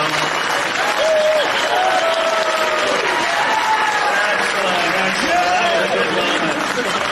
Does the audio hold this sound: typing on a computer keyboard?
no